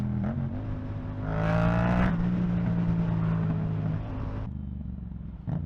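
Yamaha MT-07 motorcycle on the move: the engine revs up into a louder, brighter burst, holds a steady throttle, then drops off sharply near the end.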